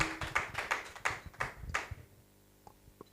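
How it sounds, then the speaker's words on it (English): A brief round of applause from an audience at an organization's launch event, a few seconds of scattered, moderately close clapping that thins out and stops, leaving near silence with a couple of faint taps. "Please, can you give her a round of applause?"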